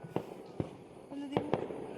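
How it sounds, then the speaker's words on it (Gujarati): Several sharp Diwali firecracker bangs pop at irregular intervals across a village, some close and some farther off, over a busy background of crowd noise. "આખા ગામમાં ફટાકડા ફૂટે છે ધબધબાટી થાય ફટાકડાની"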